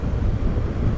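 Wind gusts steadily across a hilltop crest on a Northumberland motorcycle ride-out, a loud, continuous low roar buffeting the microphone with no speech.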